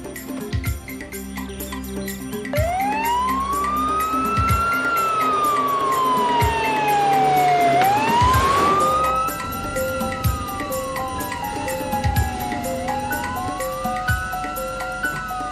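A loud wailing ambulance siren rises and falls in long sweeping tones, close by, with a vehicle engine rumbling underneath.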